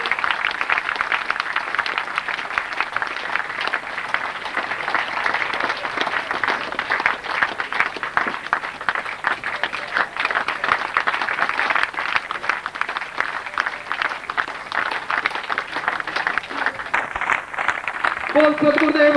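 Steady crowd clapping at a Hindi spiritual festival gathering as a guest and his wife arrive to offer garlands, a dense continuous patter lasting the whole stretch under a voice talking over it.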